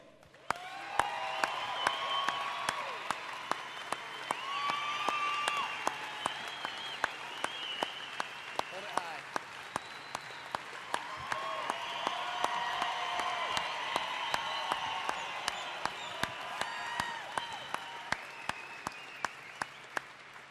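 An audience at a wounded heroes ceremony gives sustained applause for an honored Army sergeant, steady clapping from a large crowd filling a hall with a few faint cheers, lasting around twenty seconds.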